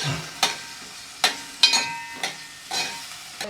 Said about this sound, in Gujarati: થોડું તેલમાં સરસ સાતળી લેવાનું બધું પહેલાં